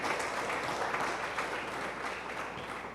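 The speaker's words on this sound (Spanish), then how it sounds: "Dele palmas al Señor." A congregation claps during a church sermon, a sustained dense patter of many hands at fair loudness, holding steady and slightly fading toward the end, without speech.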